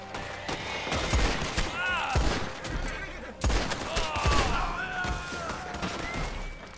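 Gunshots fired at the player by NPCs in Red Dead Online, a series of loud cracking shots with ricochets and echoing tails, some overlapping, amid game ambience and whistling sounds.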